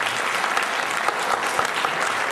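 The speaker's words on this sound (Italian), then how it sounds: "E quindi un applauso per questo" An audience at a memorial event applauds, a dense, steady burst of many hands clapping at close range throughout.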